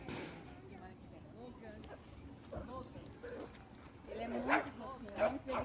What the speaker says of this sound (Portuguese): num ambiente com muito barulho, muito latido